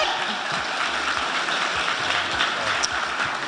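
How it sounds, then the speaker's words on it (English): An audience at an awards ceremony claps in a steady, moderately loud wash of applause that holds evenly across the whole stretch, with no voices standing out. "A round of applause, ladies and gentlemen."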